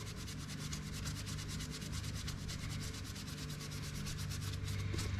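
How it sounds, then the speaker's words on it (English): A magic eraser scrubs a dingy white hat or shoe in quick repeated back-and-forth strokes, a close, steady rasping rub with no voices. "Just a little bit of rubbing, and it is freaking white."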